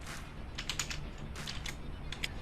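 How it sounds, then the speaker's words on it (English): Computer keyboard keys typed in a few quick bursts of clicks at moderate, close range, with a steady low hum behind them and no talking. "and start typing."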